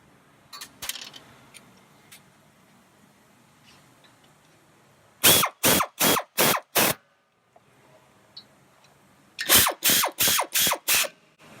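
A ratchet tightens the two 12mm brake caliper slider bolts on a 2014 Ford Mustang, in two close, loud bursts of about five sharp clicks each, separated by quiet workshop pauses.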